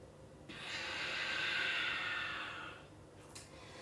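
A long, steady breath through the nose rises and fades over a couple of seconds during a flowing yoga sequence in downward dog, close and fairly quiet with no talking.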